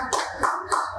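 Three short bursts of audience hand clapping at an open mic poetry event, evenly spaced, sound fairly close over a low background murmur.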